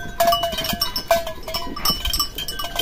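A Boer breeding buck goat on a farm, with short bleating calls and a clanking cowbell-like sound, close and fairly loud.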